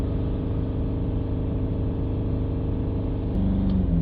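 Mercedes E Class engine held at raised revs during a blocked DPF cleaning, a steady loud droning hum that shifts pitch near the end as the revs change, no talk.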